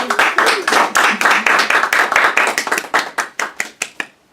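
A small audience claps after a reading, a dense patter of hands that thins out and fades to a few scattered final claps near the end.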